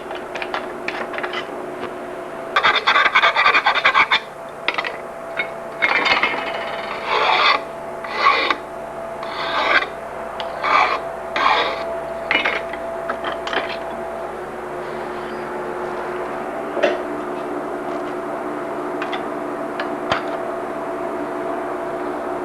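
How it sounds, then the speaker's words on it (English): A hacksaw rough-cuts a steel bicycle chainstay for a lugged frame, giving a series of close, rasping metal strokes in irregular bursts over a steady background hum, fading to quieter scraping toward the end. "We'll rough cut it with a hacksaw."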